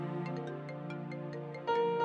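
A phone ringtone plays in a steady, bright melodic pattern of repeated chiming tones, moderately loud and alone without talk.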